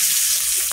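Green chillies and bay leaves temper in hot oil for a Bengali vegetarian curry, a brief bright hissing sizzle, close and steady, with no talk.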